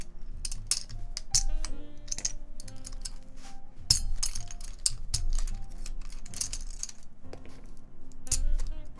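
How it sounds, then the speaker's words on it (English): Keycaps being pried off a ZZ96 mechanical keyboard give sharp, irregular plastic clicks and clacks close up. Some come singly and some in quick clusters, with small rattles in between. "let us take off these keycaps first"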